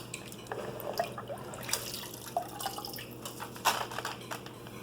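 Water drips and trickles in small, irregular drops from rinsed sticky rice, quiet and close, with a few slightly louder splashes and no talking.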